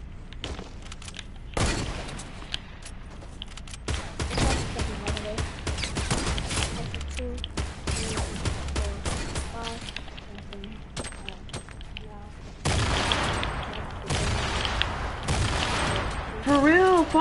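Fortnite gunshots and grenade blasts come in repeated bursts and heavy booms, loud and close, while players talk over the fighting throughout.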